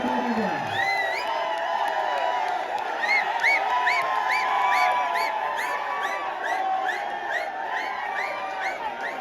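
A tournament crowd cheers, whistles and applauds continuously at moderate distance, with repeated rising whoops and chatter over a steady roar.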